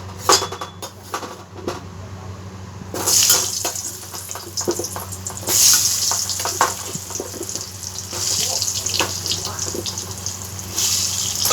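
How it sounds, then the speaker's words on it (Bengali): Potatoes drop into hot oil, sending up loud bursts of sizzling that settle into a steady frying crackle, with clinks of a pan and utensil along the way. "তেলটা গরম হয়ে গেছে। এবার আমরা আলুগুলোকে ছেড়ে দেবো।"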